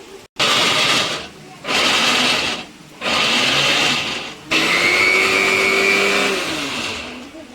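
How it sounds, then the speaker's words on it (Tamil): A mixer grinder whirs loudly in four bursts, grinding ingredients for a Tamil home-style dish, with short pauses between the pulses and the last run slowly winding down. "இதை வந்து அரைச்சிட்டு வந்துடலாம்."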